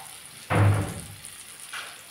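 Bottle gourd and prawns hit a hot pan in Bengali-style cooking, a sudden close sizzle that flares loudly then settles into a softer hiss, with a second faint burst near the end.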